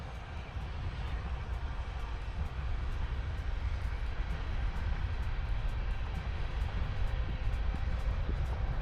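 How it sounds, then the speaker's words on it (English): A steady, low rumbling roar of a passing train, heard at a moderate distance and continuous throughout, with no talking. "Sorry, there's a train."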